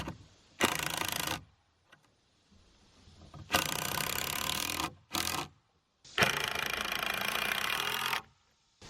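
Power driver sinking 3.5-inch Torx head screws into a wooden stud wall for a playhouse, four separate whirring bursts of about a second each with short pauses between, close and fairly loud.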